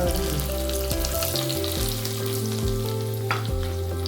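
Chili pieces crackle and sizzle in a hot oil tempering with mustard seeds, a constant close, loud frying hiss under a steady low background hum, with no voices.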